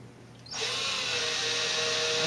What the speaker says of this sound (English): I'll drill an 1/8 inch hole.